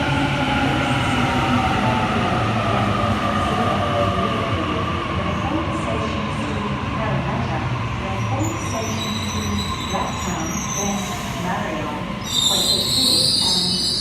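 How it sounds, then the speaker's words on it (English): A Sydney Series 1 Waratah train arriving at Platform 1 of Edmondson Park station makes a loud, continuous rolling rumble with rising wheel squeal and brake hiss toward the end as it slows. "We have a Waratah arriving to Platform 1, Schofield service."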